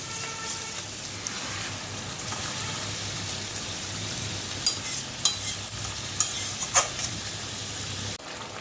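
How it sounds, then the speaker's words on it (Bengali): Coriander chicken curry stirred in a pan with stock, a steady close sizzle with a few sharper spoon scrapes and clicks near the end, no talking. "দিয়ে এরকম করে নাড়ছি, দেখতে থাকুন।"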